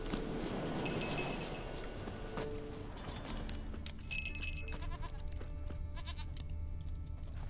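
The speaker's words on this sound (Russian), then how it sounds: "Вот прям перед входом в пещеру я слышал козу." Goat bleats in The Witcher 3: Wild Hunt near a cave entrance, several wavering calls over ambient game sound with faint hoof-like clops and chimes.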